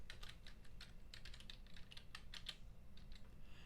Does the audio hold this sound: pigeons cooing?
no